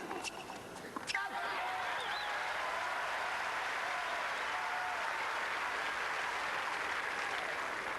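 Sustained applause fills a crowded squash court during a match, a steady wash of clapping and cheering that rises after a brief sharp start and holds loud and even throughout.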